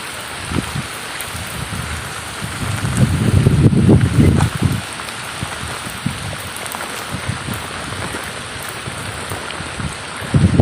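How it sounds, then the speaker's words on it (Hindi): Heavy rain pours down in a village, a dense steady patter of drops on surfaces that swells louder midway, close by with scattered sharper splashes and no voices. "बारिश, हम तो नहा रहे हैं बारिश में।"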